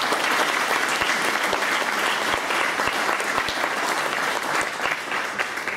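Sustained applause from an audience at the opening of a school ball, dense and steady throughout with occasional sharper claps standing out, no speech over it.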